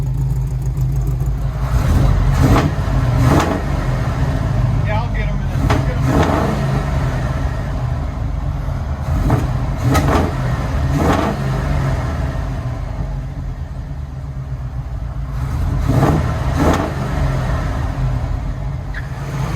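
International Scout with a newly fitted Xlerator exhaust revs in several loud, close bursts over a steady low rumble, with brief talk in between.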